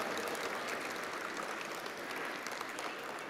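Dense, steady applause from a gathered audience at a devotional program honoring the goddess, sustained clapping throughout with no break.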